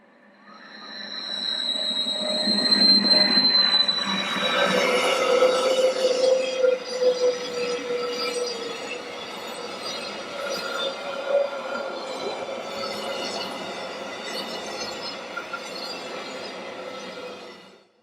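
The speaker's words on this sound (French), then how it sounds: "Le Bernina Express, avec sa locomotive moderne, gravit sans peine les pentes du col de l'Albula." The Bernina Express, pulled by a modern locomotive, climbs the Albula pass with a steady rolling rumble, metallic wheel squeals and ringing tones rising over the track noise as it passes close by, without voices.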